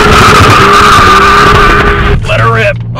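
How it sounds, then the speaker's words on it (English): A 2016 Hyundai Genesis in sport mode accelerates hard from a standstill, its engine roaring loud and close with rising pitch and gear shifts, while someone talks over it. "let's do the little 0 to 60 here real quick before some cars come"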